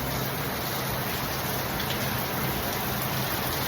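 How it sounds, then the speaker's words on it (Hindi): Heavy rain in Dehradun, India pours steadily and densely, a constant loud hiss with no pauses and no voices. "कितनी तेज़ बारिश हो रही है"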